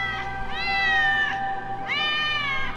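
Kittens meow in the Batman: Arkham City video game, two clear drawn-out cries close and loud, one after another, over a faint steady hum.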